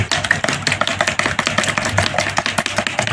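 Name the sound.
whisking egg whites for carp fishing bait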